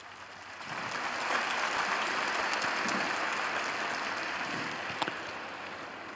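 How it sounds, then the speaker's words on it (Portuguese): Applause from the audience at Pope Francis's general audience swells from quiet to a broad, steady clapping that sounds distant and fills the space, holding evenly before tapering slightly at the end. "e grazie per applaudire"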